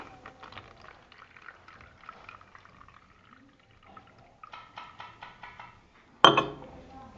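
Water poured into a homemade water pump makes a faint, intermittent trickle and splash, followed near the end by one sharp, loud clatter.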